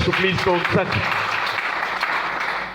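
A church congregation applauds and cheers to praise the Lord, a dense wash of clapping that swells after a voice and carries on steadily, moderately loud.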